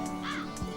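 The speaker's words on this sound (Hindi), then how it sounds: "लगता है कौवा बुरा मान गया।" A crow gives a single short caw in a Bollywood drama film scene. It sits faintly over a steady hum of background noise.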